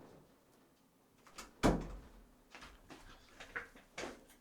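A door indoors opens to let a dog in, giving one sharp thump followed by a few fainter knocks and rustles in a quiet room.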